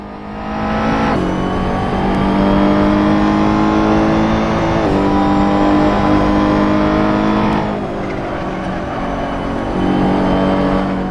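Ferrari GT3 race car engine at Fuji in a sim racing game, a loud, steady high-revving drone with brief dips at gear shifts and no talking.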